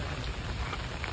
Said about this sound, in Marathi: एवढा पाऊस पडतो